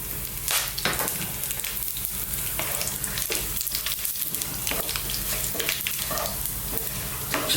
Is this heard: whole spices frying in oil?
yes